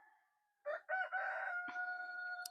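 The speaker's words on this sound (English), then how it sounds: "we'll have a lot of roosters cackling in the background because they can't stand for me to be out here talking" A rooster crows in a garden, one long, drawn-out cock-a-doodle-doo rising from faint quiet, heard moderately distant and alone.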